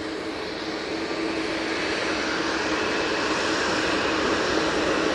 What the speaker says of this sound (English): Jet2 A321 Neo and .com livery.